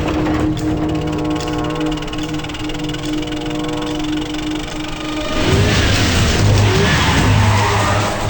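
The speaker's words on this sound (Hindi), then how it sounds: "देवा के आदमी आ रहे हैं, और तेज चलाओ" In a Hindi film chase, a car speeds along with a loud steady engine roar and tires skidding, and the sound grows harsher and louder in the second half.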